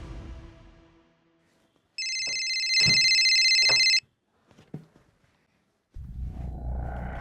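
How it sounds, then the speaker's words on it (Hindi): A phone rings indoors, a steady electronic ringtone lasting about two seconds, loud and close, followed by a brief pause and soft handling sounds before low rumbling background noise returns. "फोन उठाओ।"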